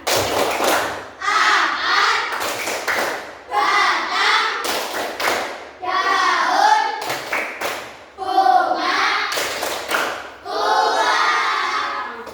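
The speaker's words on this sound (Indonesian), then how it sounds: "Semuanya silakan tepuk bagian-bagian tumbuhan." Children in a classroom perform a rhythmic clapping chant about plant parts, with bursts of sung or chanted voices punctuated by sharp group claps in a repeating pattern, loud and close.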